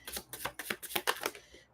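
Tarot cards are shuffled by hand in a quick series of soft, rhythmic riffling bursts, close and quiet, with no talk over them.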